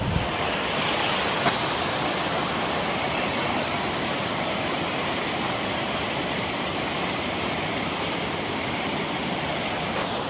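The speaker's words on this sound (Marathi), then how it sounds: "तोच पाणी या साईडनं खाली जातो आणि तो मोठा धबधबा आहे त्यावर जातो ते पाणी" Monsoon water pours down Chonde Waterfall in a steady, loud broadband rush that fills the whole stretch without letup or voices.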